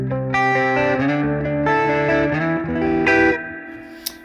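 Guitar played through the reverb of the Safari Pedals Twin Panda plugin: sustained, loud chords with a lush, washy tail that rings out and fades, with a small click near the end and no voice.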